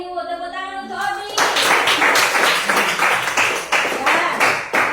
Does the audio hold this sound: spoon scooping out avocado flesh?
no